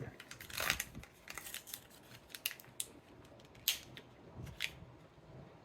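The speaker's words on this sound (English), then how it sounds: "Got a little spot here that you can rip out." Oral-B iO Series 5 brush head packaging being torn open by hand, a few sharp crinkling rips and plastic crackles close by, separated by quieter handling rustle.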